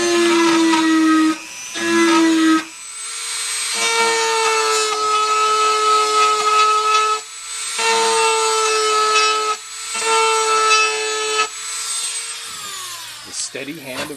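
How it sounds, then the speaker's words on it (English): A Dremel rotary tool whines at high speed as it cuts string ramps into a wooden acoustic guitar bridge, running in several sustained bursts with short pauses between them, close and loud. "string ramps on this bridge with a dremel tool"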